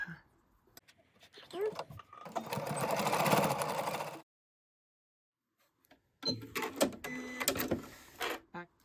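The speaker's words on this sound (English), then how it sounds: "And then we're just going to take this to the sewing machine and do the same thing. We're going to stitch down both sides." A sewing machine stitches down both sides of a square-in-a-square quilt block in two bursts of steady whirring, separated by a silent pause, with handling clatter around them.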